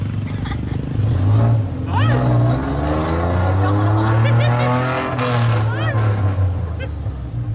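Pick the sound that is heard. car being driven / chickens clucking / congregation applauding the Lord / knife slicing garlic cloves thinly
car being driven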